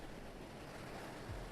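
Ocean waves wash onto a beach in old footage, a continuous broadband rush of surf with wind-like hiss and a low rumble that swells briefly near the end, with no voices.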